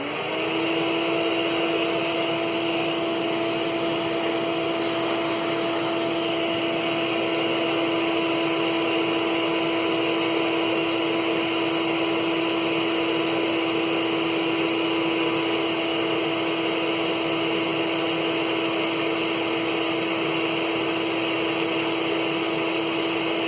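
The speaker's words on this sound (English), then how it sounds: "Now we will turn on the vacuum cleaner, uncork the balloon, and see how it deals with that kind of tailwind." A household vacuum cleaner running to blow a balloon rocket, giving a loud, steady whining roar with a constant high hum that lasts the whole stretch without a break.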